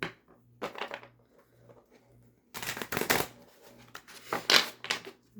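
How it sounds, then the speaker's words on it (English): Oracle cards being shuffled, close and crisp riffling bursts in two main rounds with a faint low hum underneath. "Let me shuffle this again."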